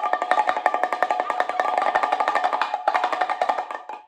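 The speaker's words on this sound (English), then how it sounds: "This is called a spin drum or pellet drum." Brazilian spin drum, or pellet drum, twirled quickly so its pellets strike the heads in a rapid rattling patter, bright and close, with a brief gap near the end.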